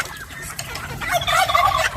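Turkeys gobble at feeding time on a small farm, where chickens and ducks are also kept. Loud, rapid gobbling calls build in the second half of the clip over a low background rumble.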